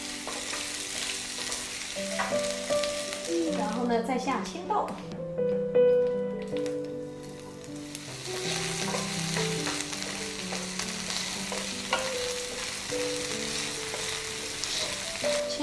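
Shrimp stir-fried in a pan for a crab niangao and eight-treasure stir-fry, a steady loud sizzle with clattering spatula stirs and scrapes throughout, a person talking over the cooking.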